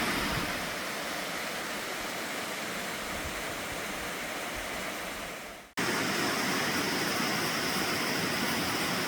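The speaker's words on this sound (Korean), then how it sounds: "이곳은 용연폭포입니다" Yongyeon Falls, a two-tiered waterfall in Jeju, gives off a steady broadband rush of falling water, loud and constant, with a brief dropout midway before the roar resumes.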